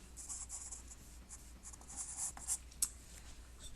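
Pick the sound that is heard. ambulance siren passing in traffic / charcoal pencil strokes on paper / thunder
charcoal pencil strokes on paper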